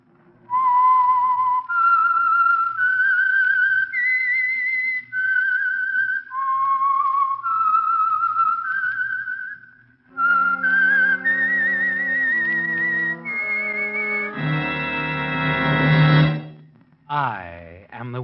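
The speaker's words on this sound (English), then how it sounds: "the signal to listen for is this whistle that identifies the Signal Oil program" A melodic whistled signature tune identifying the Signal Oil radio mystery program The Whistler: a clear, loud solo whistle carrying a rising and falling melody, followed by a swelling orchestral passage that ends in a sustained chord.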